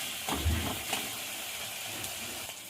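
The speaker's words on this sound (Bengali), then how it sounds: "টমেটো কুচিটা দিয়ে আবার ভালো করে কষিয়ে নেব।" Chopped tomatoes are added to spiced oil while cooking a prawn dish, giving a soft, steady sizzle with a few stirring scrapes near the start, faint and close with no talking.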